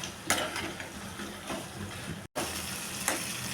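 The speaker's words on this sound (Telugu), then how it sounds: "ఒక 5 మినిట్స్ ఇలా ఫ్రై చేసుకోవాలి" Soft sizzling of tempering spices with turmeric frying in oil for tamarind rice, with a few stirring scrapes against the pan and a brief cut partway through.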